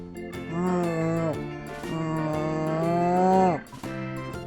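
A cow moos twice in long, low, drawn-out calls, close and loud, with a faint jingle of a bell in the background.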